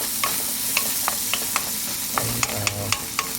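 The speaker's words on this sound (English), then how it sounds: "I like onions, so I'm gonna add a little bit extra, and then let this fry." Onions fry loudly in a pan for fried rice, a steady close sizzle with regular tapping and scraping of a spatula stirring them, and no voices.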